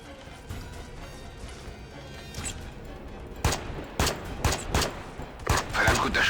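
Sharp gunshots crack repeatedly from the video game Ghost Recon Advanced Warfighter 2, sparse at first then a rapid volley of loud reports over background noise.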